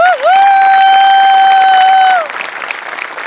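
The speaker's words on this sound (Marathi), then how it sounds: "तुझ्यासाठी स्पेशल टाळ्या" A studio audience at a Marathi television comedy show breaks into loud, dense applause that holds steady for about two seconds, while a bright sustained tone rings over it. The clapping then thins into a lighter, scattered patter.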